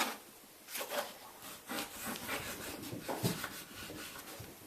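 Graphite is scribbled on paper for black-and-white mark making, with close, scratchy rubbing strokes in irregular bursts and short pauses, faint and without talk.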